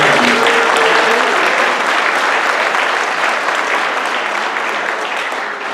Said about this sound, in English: how about a big round of applause for the dogs?